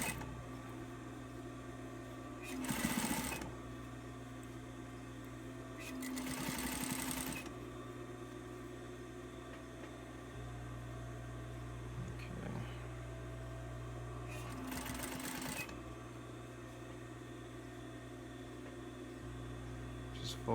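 A sewing machine top-stitches folded fabric edges. A low, steady mechanical hum runs throughout, with several louder bursts of stitching in short runs.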